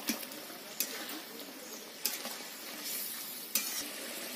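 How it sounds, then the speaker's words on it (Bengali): Yogurt gravy with fried pointed gourd (potol) simmering in a pan, with a soft, steady bubbling sizzle and a few sharp clinks of a spoon against the pan. "এটা দেখুন কেমন সুন্দর ফুটছে"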